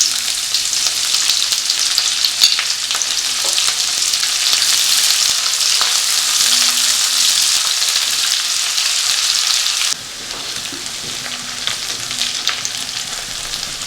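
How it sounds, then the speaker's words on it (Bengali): Chopped onions frying in a pan with whole cumin, bay leaf, cloves, cardamom and cinnamon, a loud, steady hiss and sizzle with occasional stirring scrapes, close and continuous, easing slightly in level near the end. "পেঁয়াজটা এবার ভাজা হয়ে গেছে"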